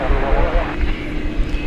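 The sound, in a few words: American Airlines Airbus A321 jet arriving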